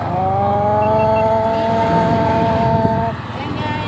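A motor vehicle drives past close by on a seaside road in Rojas, its engine a loud steady drone with harmonic whine that cuts off abruptly near the end.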